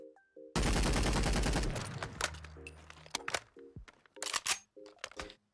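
Reloading the R-91 assault rifle with a small magazine in Fallout 4 produces a dense rattling burst followed by a run of crisp mechanical clicks, clacks and magazine snaps, close and clear, without speech.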